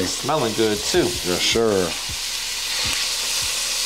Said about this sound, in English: So we'll just get the party started with a little onion and celery. Saute them down a bit.